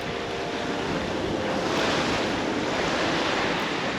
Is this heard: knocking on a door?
no